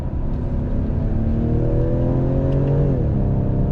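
A 2021 Ford Edge ST performance SUV under hard acceleration, the engine note climbing steadily in pitch, then dropping sharply as it shifts before pulling again, loud and close with no voices.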